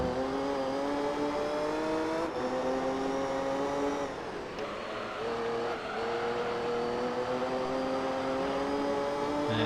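A powerful race car's engine in Gran Turismo 3 drones steadily at high revs, holding a sustained tone with brief dips as it shifts or lifts, with no talk over it.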